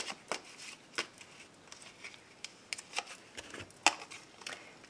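Oracle cards for an angel card reading are shuffled in a quiet room, a series of soft riffling flicks and taps at irregular intervals, close and fairly faint, with no talking.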